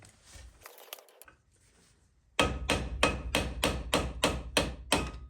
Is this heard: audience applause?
no